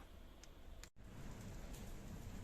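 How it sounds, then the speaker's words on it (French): Rain falls steadily around a camper van on a trip near Marbella, a dense, even hiss with scattered drop patter, close and continuous apart from one very brief dropout. "il pleut toujours, alors pas facile"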